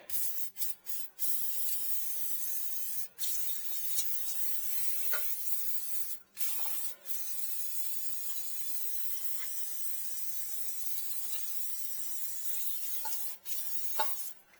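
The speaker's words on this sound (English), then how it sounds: "we're just going to spray some brake clean in there" A long, steady hiss of aerosol brake cleaner sprayed close by on a Toyota Tundra's power steering area, broken by a few short pauses between bursts.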